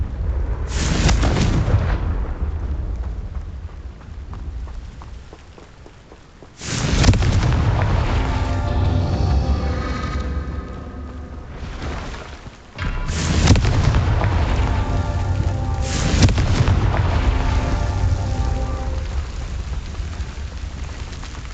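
Confringo fire spells blast in Hogwarts Legacy, several loud booming explosions arriving in separate bursts with rumbling decay between them, close and forceful.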